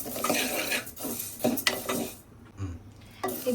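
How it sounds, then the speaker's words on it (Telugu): Moong dal is dry-roasted in a pan and stirred, so a spoon scrapes and rattles against the metal in close, uneven bursts with a short quiet gap, under a faint sizzle and with no speech. "ఫస్ట్ మనం పెసరపప్పు వేసుకొని కొంచెం పెసరపప్పుని రోస్ట్ చేసుకోవాలి"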